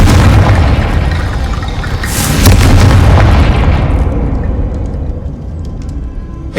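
Confringo blasting spell going off in Hogwarts Legacy: a loud, close booming explosion with a second heavy burst midway, then a long crackling roar that fades into sparse debris pops.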